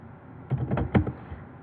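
Short burst of typing on a computer keyboard while entering a style sheet rule: several crisp, close keystrokes clustered in the middle, nearby and fairly loud, with no voice.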